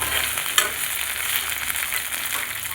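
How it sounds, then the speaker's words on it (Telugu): Steady sizzling of mint leaves frying in hot oil on low heat, a continuous crackly hiss with one brief clink near the start. "సిమ్లో పెట్టుకొని అలా రోస్ట్గా ఫ్రై చేసుకోవాలి"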